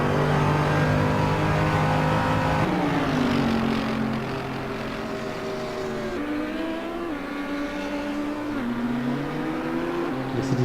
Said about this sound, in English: Mercedes-Benz proving very strong under braking at Monza.